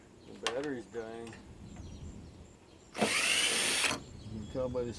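A cordless power tool on a dying battery runs for about a second in one close, loud whir during an air purifier teardown, with someone speaking before and after it.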